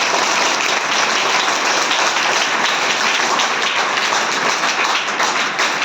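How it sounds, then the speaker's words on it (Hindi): Loud, dense applause and clapping from a school audience honouring children at a Mahashivratri Indian culture class, sustained evenly throughout without talk. "चलिए इन बच्चों के लिए एक बार जोरदार तालियां।"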